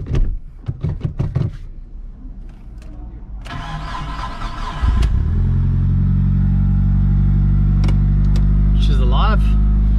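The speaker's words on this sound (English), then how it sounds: "Time to start it up and let's hear if there are any exhaust leaks or vacuum leaks" A Mitsubishi Evo with the EGR and SAS deleted cranks over with a whirring starter and then catches, settling into a loud, steady idle close by. Brief clicks and rustles come before the start.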